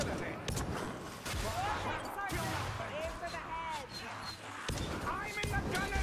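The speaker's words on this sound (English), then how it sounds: "He's shooting right through the walls" A gunner in the Vermintide video game firing through walls, heard as rapid, repeated gunshots in bursts across the whole stretch, mixed with game effects and overlapped by people talking.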